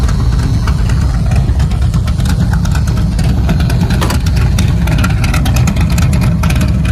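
A muscle car engine runs loud and close with its exhaust cutouts open, giving a steady, heavy, rumbling roar with slight rises in revs throughout and no talking over it.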